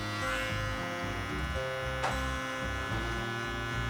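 Electric hair clippers with no guard and the lever open buzz steadily while cutting hair for a fade, a close, continuous motor drone that shifts in pitch as the blade moves through the hair.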